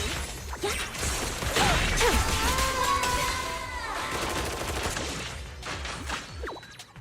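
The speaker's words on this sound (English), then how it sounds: "I still hear shooting in the back" Gunfire crackles through a Zenless Zone Zero battle scene, a dense run of shots and crashes with whooshing effects layered over a tonal score, loud at first and thinning toward the end.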